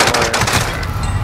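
Rapid automatic gunfire from a video game shooter rattles out as a loud, close, continuous burst lasting about a second.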